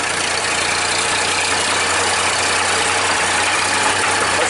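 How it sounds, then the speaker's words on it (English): An old loader tractor engine idles steadily, a loud continuous low rumble with no pauses, close to the microphone and with no voices. "She's moving for the first time and I have no idea how many years. It also is making some fun sounds."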